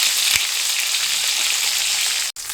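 Pork chops fry in a pan with a steady, close sizzle and a broad hiss that holds throughout, cut by a brief dropout near the end.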